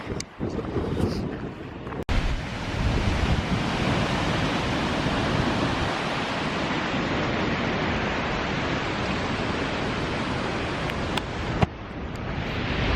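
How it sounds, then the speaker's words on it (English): Skogafoss, a massive waterfall in Iceland, roars in a dense, steady rush of falling water mixed with heavy wind buffeting the microphone, loud and unbroken with a couple of brief bumps. "Skogafoss, which is a massive waterfall"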